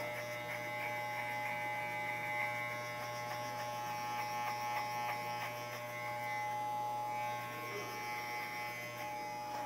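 Electric hair clipper buzzing steadily while cutting hair slowly along the side of a head, a continuous close mains-pitched drone with faint crackle of passing hair and no talk.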